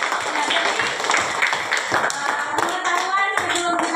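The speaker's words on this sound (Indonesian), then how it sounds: "Tepuk tangan buat kita semuanya" A classroom of students claps together in an Islamic religious education lesson, rapid overlapping hand claps forming a steady rhythmic patter, close and lively, mixed with voices.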